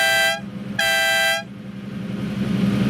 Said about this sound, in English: It's crazy, and yet it has that crappy little horn. It sounds like a music note.